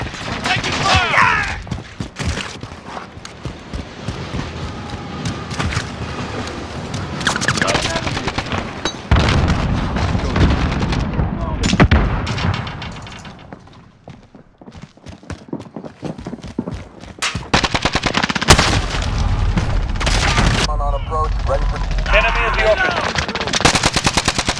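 Automatic gunfire and shots in a Call of Duty: Modern Warfare training match at Hackney Yard, loud bursts coming in clusters with short lulls, mixed with game voice callouts.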